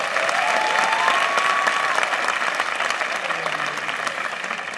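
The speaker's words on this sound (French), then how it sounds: "Applaudissez pour vous-même." Audience at a stand-up comedy show applauds steadily, a dense, even wash of clapping from a large crowd that carries on without letup, with a faint voice briefly audible over it.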